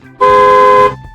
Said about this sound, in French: c'est le klaxon du bus.